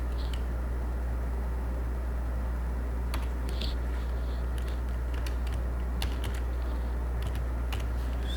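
Keys clicking on a computer keyboard while C code is typed for an if-else-if exercise: sparse, light taps in small irregular bursts over a steady low electrical hum, with no talking.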